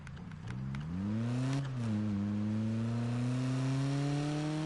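Car engine in Need for Speed 2015 revving up through the gears, a loud rising whine that dips at a gear change and then climbs steadily again toward fifth, with no talking.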